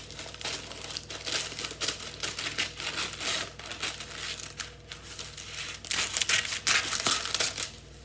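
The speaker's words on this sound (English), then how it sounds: "I am now about to put some baking paper over the tins" Baking paper crinkling and rustling as it is laid over baking tins for triple chocolate cookies, close and irregular, with louder crumpling bursts toward the end and no talk.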